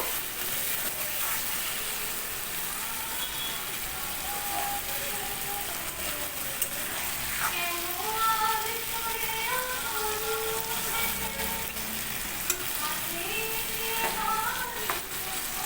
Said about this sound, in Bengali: তাই আমি হাই ফ্লেমে দিয়ে অল্প অল্প করে জল দিয়ে কষাবো